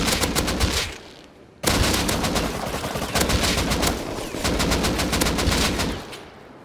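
AK rifle fire in the survival game Rust rattles out in loud, rapid automatic bursts, dropping out briefly after the first second before the sustained shooting resumes and runs nearly to the end.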